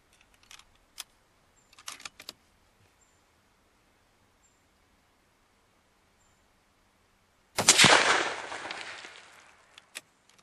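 A single sharp 6.5-284 rifle shot rings out during load testing at a range, loud and close, trailing off into a rolling echo over a couple of seconds, with a few faint clicks and handling noises before and after.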